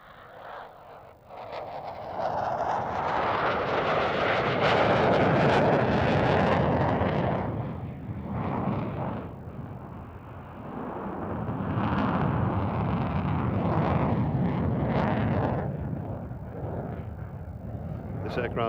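A Hungarian Air Force military jet fighter from the 59th Tactical Fighter Wing, in service since the late 1980s, roars past at an air show at RAF Cottesmore, a loud sustained engine rush that swells and fades with some crowd noise.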